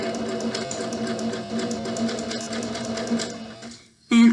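A sewing machine stitching down the fabric edges of a scrunchie, a steady rapid whirring rhythm with brief pauses, then stopping near the end before a short louder sound.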